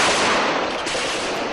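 Gunfire during an extremist attack on mosques in Lahore, Pakistan, heard as a dense, continuous burst of rapid shots with no break or talk.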